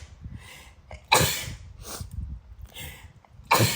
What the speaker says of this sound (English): I've been sneezing a whole lot